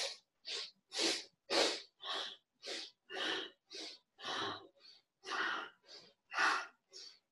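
Forceful rhythmic exhales of a yoga breathing exercise, about fourteen sharp breath bursts in a steady even pulse, close and loud, separated by brief quiet gaps.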